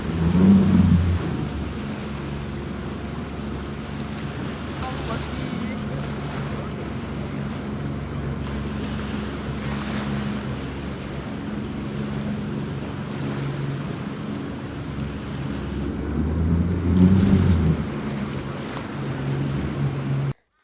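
A boat rumbles steadily on the sea near an Australian island, with waves washing and surging loudly around it in a continuous low roar that swells near the start and again later.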